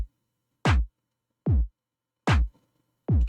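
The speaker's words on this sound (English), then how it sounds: "So that's a dubstep beat." A slow dubstep drum pattern with kick and snare landing together on the third beat. Four heavy, booming hits are spaced evenly apart with silence between them, close and dry.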